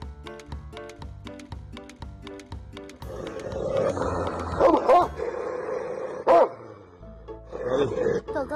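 A dog gives several short barks and excited yips with whimpering in between, loud and close, coming in after a stretch of other sound.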